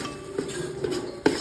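Chicken biryani ingredients being stirred in a pot, with a spoon scraping and clinking against the metal in three distinct knocks over a steady low background, close and alone with no talk.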